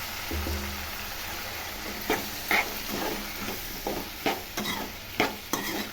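Tomato and drumstick pieces stirred in hot oil, a steady sizzle running throughout with a series of scraping clicks and clatters from the spoon, growing more frequent toward the end.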